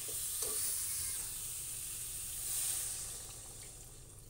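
Water poured into a sizzling pan of garlic curry, a steady hiss and bubbling with a swell of sizzle midway, close and continuous with no talking.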